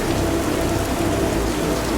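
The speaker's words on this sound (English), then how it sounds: "the rain started falling heavily" Heavy rain pours in a dense, continuous hiss and patter, loud and close, with no pauses or voices.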